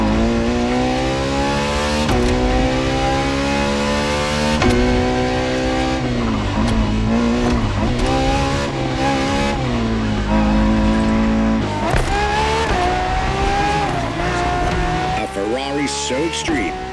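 A Ferrari racing car engine in the video game The Crew Motorfest roars and revs loudly and continuously, with shifting pitch and occasional tire squeal.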